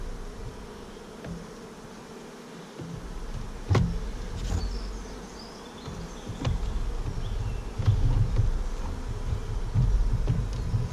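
Honeybees buzzing inside a small nucleus hive during a transfer to a full-sized hive, a steady close hum with louder swells and a few sharp knocks from handling frames.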